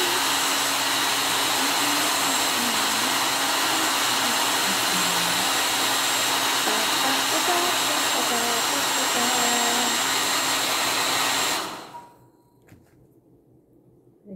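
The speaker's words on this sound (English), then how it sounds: "So, hair dryer." A hair dryer blowing during a craft project: a loud, steady whirring roar that runs unbroken for about twelve seconds, then shuts off into near silence.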